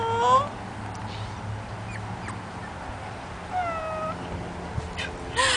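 A puppy gives several thin, high, wavering whines spaced out over a few seconds, fairly faint against a low steady background hum.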